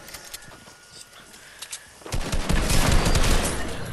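Gunfire bursts in a video game shooter as a sniper rifle is used, the sound jumping from quieter rattling into a dense, loud volley of rapid cracks.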